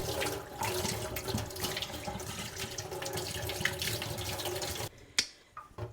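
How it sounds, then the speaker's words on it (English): Vacuum cleaner parts are rinsed under a running kitchen sink faucet: a steady close gush of water that cuts off near the end, followed by a few light clinks. "I'm just going to start rinsing these out"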